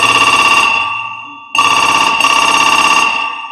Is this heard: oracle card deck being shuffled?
no